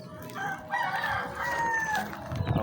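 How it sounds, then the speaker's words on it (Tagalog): A rooster in a backyard flock of chickens in Cardona lets out a full, close crow, with the drawn-out call rising and falling over quieter clucking and farmyard background. "Marami tayong manok dito guys."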